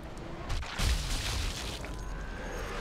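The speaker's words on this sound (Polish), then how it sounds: "Czemu to po prostu wybuchło?" A mine detonates in the zombie shooter Zombie Army, giving a deep, rumbling boom that swells around the one-second mark and then rolls on as a low, sustained roar without any speech.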